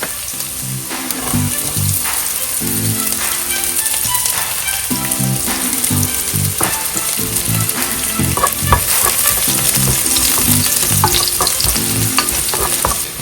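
Garlic and ginger frying and sizzling steadily in a pan while being stirred, a dense continuous crackle with repeated scraping strokes, close and loud throughout, no talking, while cooking a Kerala-style egg roast.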